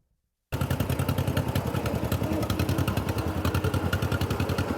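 A John Deere 40 crawler tractor engine starts abruptly and runs steadily with a rapid, even clattering beat, loud and close, with no talk.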